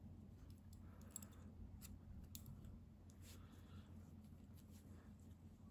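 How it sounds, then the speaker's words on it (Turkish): Scissors snip through crochet yarn at the end of a round, giving a few short, crisp cuts close by and fairly quiet over a steady low background hum, with no talking. "İpliği kesiyorum."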